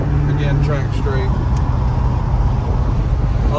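A 1973 Chevrolet Chevelle SS with a 350 V8, automatic, and X-pipe exhaust cruising at about 55-60 mph, giving a steady low engine drone with road noise throughout, loud and continuous.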